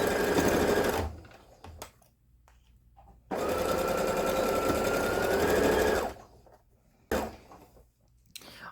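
A sewing machine back-stitches ribbon onto a DIY stuffed animal in three bursts of fast rattling whir, long runs split by pauses with quiet handling noises between them.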